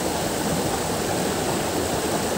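A river flows nearby with an even, constant hiss and rush of moving water, with no breaks and no voices.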